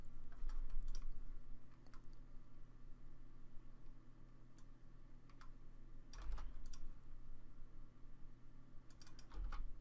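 Keystrokes on a computer keyboard, scattered clicks in a few quick bursts over a steady low room hum, close and moderately faint with no talking.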